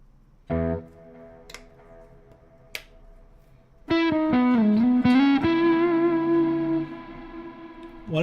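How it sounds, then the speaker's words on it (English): A heavily distorted electric guitar: a couple of isolated plucks, then a sustained, bending chord rings out loud and fuzzy for several seconds. "why was I using this much distortion?"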